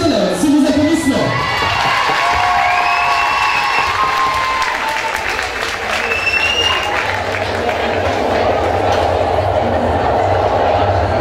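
An audience at the Miss Marne 2017 pageant applauds and cheers loudly for a Disney-themed segment, with sustained clapping, whoops and high shouts filling the room for the whole stretch.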